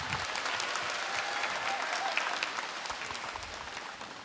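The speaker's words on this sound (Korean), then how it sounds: "제빵사님에게 다시 한번 큰 박수 부탁드릴게요" An audience of students at a televised talk applauds a baker, a steady wash of many hands clapping at a moderate distance that slowly tapers off.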